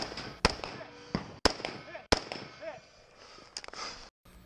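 Sharp gunshots crack at a two-gun action shooting match stage, several loud reports spaced about a second apart with a quick cluster near the end, ringing out over background noise and a voice.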